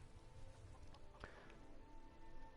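Chickens in a modded video game cluck softly in a few short bursts over a faint, steady ambient hum, one sharper squawk standing out near the middle.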